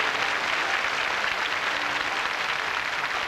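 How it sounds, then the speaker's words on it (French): Studio audience applauding a hostess on a French television show, a dense, even wash of clapping that holds steady for a few seconds with no voices. "Merci d'applaudir l'hôtesse"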